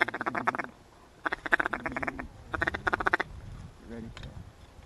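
Ducks quack in rapid, loud bursts, likely from a duck call, during a duck hunt at daybreak, with three close clusters of raspy calls separated by short pauses and a faint voice near the end.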